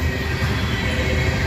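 A long coal freight train bound for a South Carolina power plant rolls steadily past at close range through Abbeville, a loud continuous rumble of wheels and cars with no voices.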